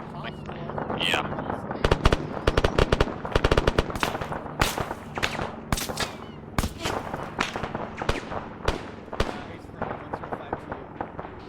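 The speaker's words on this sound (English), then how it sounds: "I'm taking accurate fire from somewhere to the northwest." Gunfire in a military simulation game: bursts of automatic fire and single cracks crowd the first half, then thin into spaced shots, some sharp and near, others more distant, with voices talking over them.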